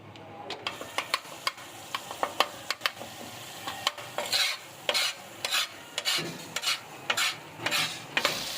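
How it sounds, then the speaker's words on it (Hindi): Spices for beef tawa kaleji frying in a pan, with a spatula stirring and scraping in repeated strokes over a soft sizzle, close and fairly loud. "मसालों की करेंगे हम भुनाई तकरीबन 2 मिनट के लिए"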